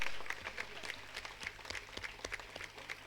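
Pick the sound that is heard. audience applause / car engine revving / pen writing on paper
audience applause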